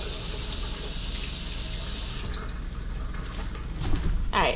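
Mushrooms are rinsed under a steady stream of running tap water, loud and close. The flow gushes evenly before easing off, ending with light splashing and handling sounds.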